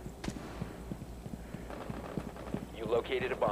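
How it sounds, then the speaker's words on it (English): Player footsteps in Rainbow Six Siege, a quick steady run of hard, loud steps on a solid floor, with a voice talking over them toward the end. "your footsteps are loud in this game"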